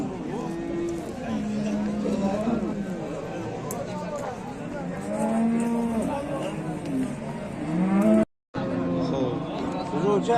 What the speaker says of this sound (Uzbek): Navbatdagi sigirimiz.